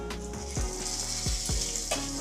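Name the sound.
dried red chillies and nigella seeds sizzling in hot oil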